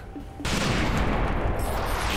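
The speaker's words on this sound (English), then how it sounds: "Enough with the goddamn missiles!" Missiles launch in Trails in the Sky, a sudden dense barrage of blasts that starts abruptly and keeps roaring loud and continuous, with no talk over it.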